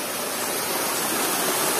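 Steady broadband rush of the Way Bernung waterfall at the foot of Mount Pesagi, a loud continuous roar of falling water heard alone with no talk.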